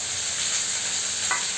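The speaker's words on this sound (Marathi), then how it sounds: "तोपर्यंत आपले कांदे, टमाटर, मिरची, अद्रक भाजलं जात आहे" Onions, tomatoes, green chillies and ginger sizzle and fry steadily in a pan for matar paneer, a continuous close crackle with a brief stir.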